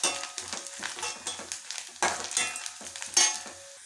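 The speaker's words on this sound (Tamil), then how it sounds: "அது கூடவே தேங்காய் துருவல் நல்லா செவந்து வரட்டுங்க." Grated coconut fries with garlic and ginger in a pan, close soft sizzling broken by repeated scraping stirs in an irregular rhythm, with no voices.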